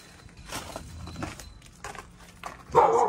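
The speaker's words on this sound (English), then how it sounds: "Sounds like we got a dog next door." A dog barks next door to a building under inspection, a sharp burst rising near the end over a quieter, muffled stretch of footsteps and room noise.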